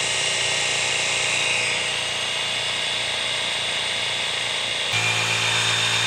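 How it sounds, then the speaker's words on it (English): A power drill priming a 377 stroker engine whines steadily at close range, a continuous high mechanical hum that shifts to a lower, heavier tone near the end. "We've got us a drill here."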